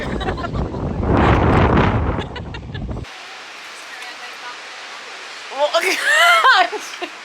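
Steady broadband wind rush roars against the microphone for a few seconds at an outdoor horse eventing competition in August, then drops to a quieter hiss as brief voices and laughter break in.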